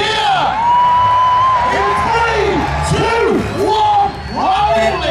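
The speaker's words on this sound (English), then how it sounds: "Give him a big cheer" Loud crowd cheering and whooping at a monster truck show in the UK, with an announcer's amplified voice sweeping over the roar in rising and falling calls.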